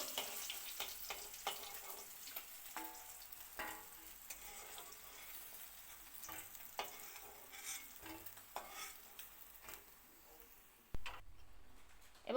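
Boal fish fries in oil with a soft, crackling sizzle broken by repeated stirring scrapes and light ticks of a utensil, fairly quiet and close, ending in a sharper clatter.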